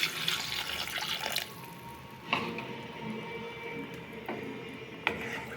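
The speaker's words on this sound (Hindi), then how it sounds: "एबे हम इसरे पानी देबा।" Water is poured into a pan of taro and potato curry cooking on a gas stove, a soft splashing pour broken by a few sharp clinks and clatters from the pot.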